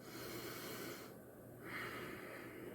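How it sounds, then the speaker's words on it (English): Slow, deep breathing during a late-night relaxation meditation: a long, close inhale through the nose, a brief pause, then a soft, airy exhale. "Slow your breath down."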